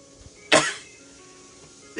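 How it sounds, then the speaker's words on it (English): A single sharp, explosive burst near the start, quickly fading, then quiet room tone; sounds like one sneeze. "I'm going to sneeze, excuse me."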